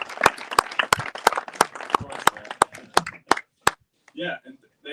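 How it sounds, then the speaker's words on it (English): Sharp, distinct hand claps ring out at a paragliding race press conference, a series of loud, evenly spaced claps amid scattered smaller ones and voices, stopping near the end as brief talk resumes. "Does your card, Ferdi, say that this would be also a moment of applause?"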